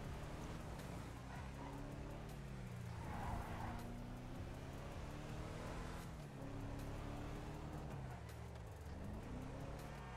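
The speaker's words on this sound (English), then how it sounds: "I think we're actually going to do a little bit of off-roading in this truck" A truck's engine drones steadily while driving off-road in GTA V, its rising and falling pitch sweeping with gear changes, and tire noise scrubs underneath, loud and continuous.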